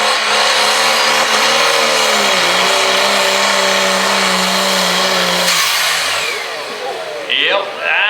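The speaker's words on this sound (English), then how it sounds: "These turbochargers build quite a bit of boost. He's probably putting 50, 60 pounds of boost into that motor," Turbocharged pulling truck at a county truck pull in Snyder County, Pennsylvania, its engine roaring loud and steady with a high turbo whine for several seconds before easing off and revving again near the end.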